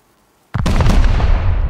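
A sudden loud blast bursts out of silence and rolls on as a heavy, rumbling boom, an explosive detonating during a raid in the game Rust.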